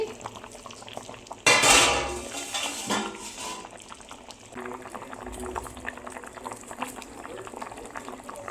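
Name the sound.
fish curry simmering in clay pot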